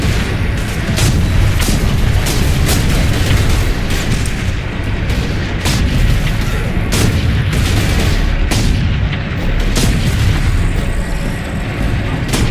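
Incoming artillery shells burst around the battlefield in the Warhammer 40K Space Marine video game, a dense, continuous barrage of heavy booms and explosions with repeated sharp blasts over a constant rumbling din.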